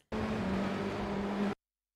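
Race car engine in the iRacing simulator, a steady droning engine tone holding nearly constant pitch for about a second and a half, then cutting off abruptly into silence.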